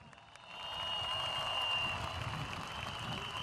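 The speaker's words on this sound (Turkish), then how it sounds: "yürekten alkışlıyoruz" A large crowd at a political rally in Bakırköy Özgürlük Meydanı, Istanbul, applauds steadily, with a dense, sustained wash of clapping and crowd noise that swells after the first half second and stays loud.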